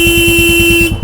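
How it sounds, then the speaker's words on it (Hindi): A loud, steady car horn blares continuously for about a second, then cuts off abruptly. "हम हॉर्न का यूज करते हैं"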